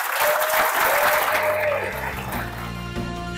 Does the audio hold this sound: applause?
yes